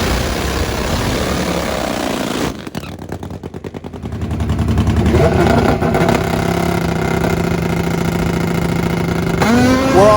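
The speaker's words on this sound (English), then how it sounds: "The Top Fuel Harley of Tony Ruggiero." Top Fuel Harley drag motorcycle racing a Suzuki down a drag strip, a loud harsh engine roar that drops briefly, then swells back to a sustained blaring howl, with a sharp rising whine near the end.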